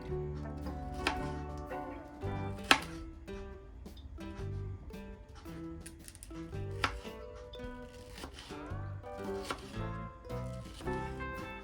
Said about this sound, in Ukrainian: Далі я почистила персик і нарізаємо на такі дольки.